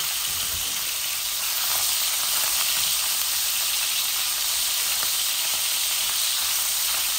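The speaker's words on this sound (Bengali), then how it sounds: "আমি এটাকে হাফ ভেজে নিব ভালো করে" Fish pieces fry in hot oil, giving a loud, steady, close sizzling hiss that continues unbroken throughout.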